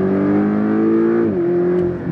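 Porsche sports car driving on a race track in Malaga, its engine holding a loud steady drone close by before the pitch drops slightly as it eases off, continuing alone without talk.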